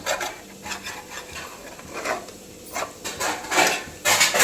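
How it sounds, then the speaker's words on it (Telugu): A spoon stirs a thick masala mixed with fried onion and yogurt in a pot for aloo dum biryani, giving repeated scraping, squelching strokes at an uneven rhythm, close and fairly loud. "పెరుగు కూడా వేసి మసాలాని మంచిగా కలుపుకుందాము."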